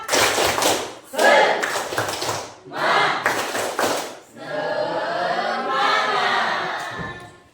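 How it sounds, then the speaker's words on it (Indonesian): A class of schoolchildren claps in short, rhythmic bursts separated by brief pauses, an Indonesian 'tepuk semangat' spirit clap, followed by a crowd of voices chanting together. "Tepuk semangat"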